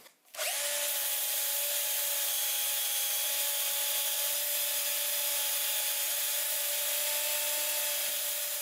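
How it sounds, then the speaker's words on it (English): Power sander working a wooden off-centre vase spinning on a lathe, a steady, loud, unbroken whine with a sustained tone, starting abruptly after a brief quiet moment and running alone throughout. "So I'm going to have to revert to power sanding."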